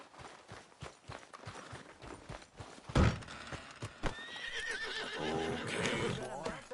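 A horse in Red Dead Redemption 2 whinnies loudly and its hooves clip-clop at a gallop, close and vivid over game background sounds.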